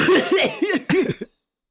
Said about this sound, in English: That might have been a real cough.